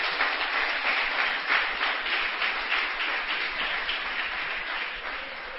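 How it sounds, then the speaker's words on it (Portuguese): A church congregation applauding together during a sermon, a steady dense wash of clapping that holds for several seconds and eases slightly toward the end. "Você pode aplaudir o nome do Senhor."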